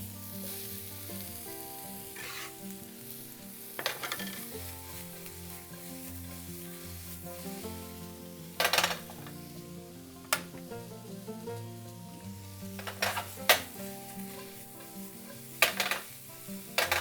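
Mushrooms frying in a very hot skillet for miso ramen, a steady sizzle under repeated scraping and clattering of a utensil stirring against the pan, several sharp knocks scattered throughout, no talking.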